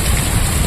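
Rain falls in Bhadrak as a dense, loud, steady hiss with no breaks or distinct drops.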